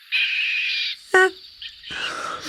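A barn owl gives a drawn-out, hissing screech lasting nearly a second, followed by a short harsh call and fainter rasping sounds, close and loud with no talk.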